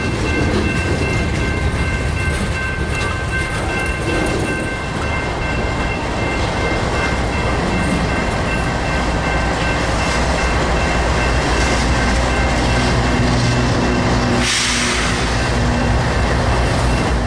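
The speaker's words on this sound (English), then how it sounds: "Judging by the mid-train DP power, this train had to be a beast." A long Union Pacific freight train with mid-train DP locomotives rumbles steadily past at close range in winter, wheels and cars clattering without letup, with a brief hissing burst near the end.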